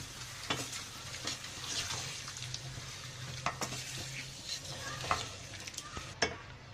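Carrots and radish go into a frying pan for mixed vegetable pickle, sizzling steadily under a low hum while a spoon scrapes and stirs in several sharp clicks.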